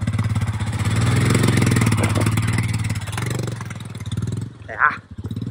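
A Royal Enfield Himalayan motorcycle engine putters at low throttle in France, a steady, close thumping idle, with a person talking over it and a short rattling clatter near the end.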